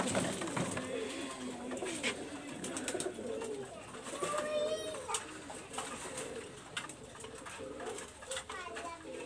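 Pigeon cooing from a female Pakistani high-flyer pigeon kept with others, soft repeated coos sounding close amid bird chatter and faint background noise.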